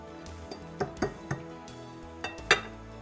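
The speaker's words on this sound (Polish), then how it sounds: "I znowu dokładnie mieszam." Egg mixture for egg cutlets being stirred in a bowl, with a handful of separate clinks and taps of a utensil against the bowl spaced irregularly over quiet, close-up kitchen ambience.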